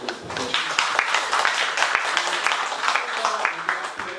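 Audience clapping at the close of an academic symposium on a historical site, a lively patter of many hands at close range, uneven and busy throughout, with some voice mixed in beneath.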